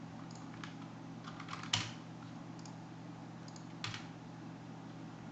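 Quiet clicking of a computer keyboard as a terminal command is typed, a few scattered soft keystrokes with a couple of louder taps over a faint steady hum, no voices.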